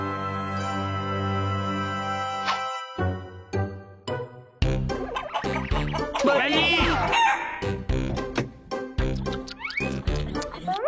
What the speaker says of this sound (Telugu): అది కోడి